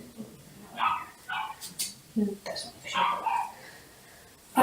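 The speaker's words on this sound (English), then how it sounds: "And if you hear a dog barking," A pet dog yips and barks in short bursts at close range, mixed in with someone talking over it.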